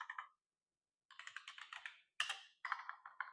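Quiet typing on a computer keyboard comes in short bursts of rapid key clicks separated by brief pauses, close and alone without talk.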